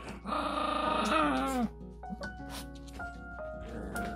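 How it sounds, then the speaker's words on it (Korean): Dog growling low and rough during a tense standoff between dogs, a sustained snarl lasting about a second and a half, followed by quieter scuffling sounds and faint background noise. "서련이가 옆에서 으르렁 하면서 엥 하면서 발길을 한번 살짝 쳤어요. 준기를."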